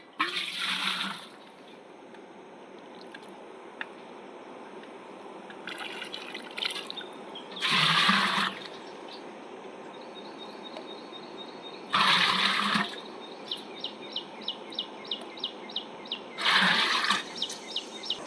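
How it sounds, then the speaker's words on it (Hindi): Spring water flowing out of the ground trickles and gurgles quietly in bursts, with a few louder gushes and a series of small drips between them. "देखिए कितना मस्त ज़मीन के अंदर से पानी निकल रहा है पानी।"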